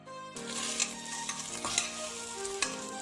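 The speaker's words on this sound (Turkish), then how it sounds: "Suyunu çekinceye kadar kavuruyorum." Meat for orman kebabı sautéing in a pan until its juices cook off, with a steady sizzle and occasional stirring scrapes, close and alone, over faint background music.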